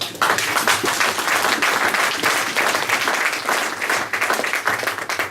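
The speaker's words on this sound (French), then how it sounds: "Vous pouvez acclamer pour lui." A church congregation applauds its pastor with loud, dense clapping from a large crowd that carries on for several seconds and thins slightly toward the end.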